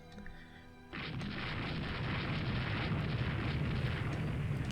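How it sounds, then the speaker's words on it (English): A torpedo strikes a warship in Rule The Waves 2, setting off a sudden, heavy explosion that swells into a long, dense roaring rumble filling the rest of the moment, loud and sustained with no voices. "Okay, hit by a torpedo."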